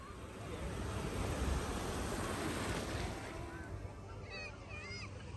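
Sea waves wash onto the beach at Karachi in a continuous broad roar with wind buffeting, swelling and easing without a break; a few faint high calls come in near the end.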